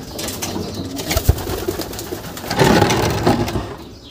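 Racing pigeons coo in a loft, close and repeated, with a fuller burst of calling toward the end and no voices.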